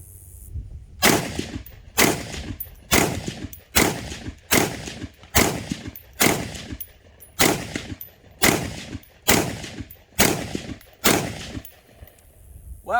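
Repeated single shots from an IWI Tavor X95 rifle chambered in .223 at an outdoor range, about a dozen sharp loud reports spaced roughly a second apart, each with a short ringing decay.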